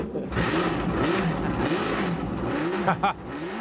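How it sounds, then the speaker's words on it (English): A Ford GT40 Mark I race car, a Le Mans winner in 1968 and 1969, revs its engine at the Laguna Seca historic races. The loud, rough roar rises and falls close by, with a faint hint of voices underneath. "Brian Redmond revved that one up, and he put it on the racetrack in convincing fashion"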